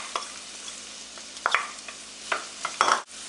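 Diced onion, celery and two cloves of garlic cook in a pan with a soft, steady low sizzle, broken by a few sharp scrapes and stirs of a utensil against the pan.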